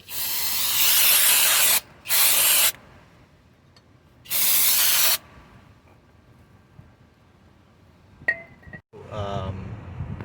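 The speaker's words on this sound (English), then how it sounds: "you can use the brake cleaner. This is a brake clean parts cleaner to take out the excess rust." Brake parts cleaner sprays onto rusty brake parts in three loud, hissing bursts, close by. Quieter handling noises and a few clanks follow.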